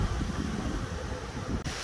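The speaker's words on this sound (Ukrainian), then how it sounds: "Щось вітряно." Strong wind buffeting the microphone on a city street, a continuous low rumbling gust with no voices.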